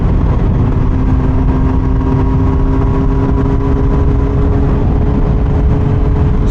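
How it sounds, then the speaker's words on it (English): An inline-four superbike engine droning loud and steady while riding, a thick, sustained mechanical tone with a constant pitch and no talking over it, likely under wind. "This bike has such a true, raw, iconic and almost distinctive sound of what an inline 4 is"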